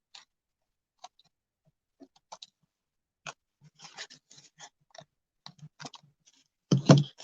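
Scissors trim the edges off paper for a mixed media collage, giving faint, scattered snips and clicks close by in an irregular rhythm, with a louder rustle at the end.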